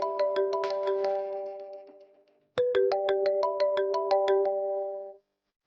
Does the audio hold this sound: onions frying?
no